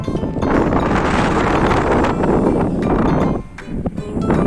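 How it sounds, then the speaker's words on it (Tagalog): Strong, continuous wind roaring and buffeting the microphone during a sandstorm in Dharan, loud and steady with a brief lull near the end. "Sandstorm dito ngayon."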